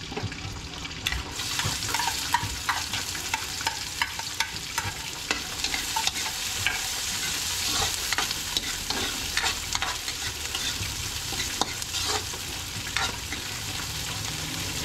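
Garlic and onion sauté in hot cooking oil in a wok-style pan for pinakbet, a steady broadband sizzle with scraping stirs and small pops running throughout, close and continuous with no talking.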